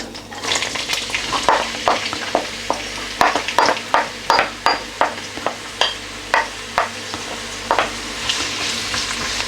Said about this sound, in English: And we're going to fry these until they're nice and soft and golden brown